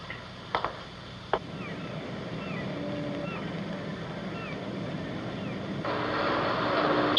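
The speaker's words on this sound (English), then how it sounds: "Shut off the engine." A boat engine drones steadily close by on open water in a harbor, a constant low rumble with wind noise, a couple of short knocks early on and the sound swelling slightly toward the end.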